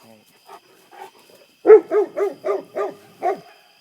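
A young coyote yips at night outdoors, a faint rising cry followed by a close burst of six rhythmic, high-pitched yelps in quick succession.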